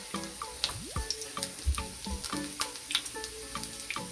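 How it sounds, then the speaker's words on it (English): Jamaican salt fish fritters sizzle and crackle in a pan of hot oil, with close, irregular pops and spits over a soft continuous hiss, no voices. "if it's not frying fast enough, as it should, then you turn your burner up"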